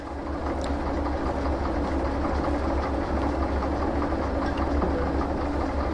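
During shunting in Trans Siberian Railway Simulator, a train rolls on with a steady, heavy rumble and low mechanical hum, a constant grinding drone with faint clanks and no distinct squeal.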